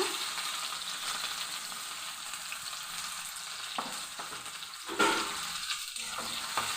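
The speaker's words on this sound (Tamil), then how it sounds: "வெங்காயம் நல்லா வதங்கி வரட்டுங்க" Sliced onion sautéing in hot oil in which mustard seeds have already popped, a steady broadband sizzle with a few spatula scrapes and a brief louder stir near the end, no voices.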